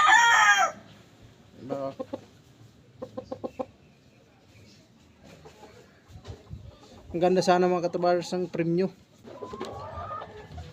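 A fighting rooster crows in a few ringing calls and clucks in short bursts, fairly close, while someone talks between and over the sounds.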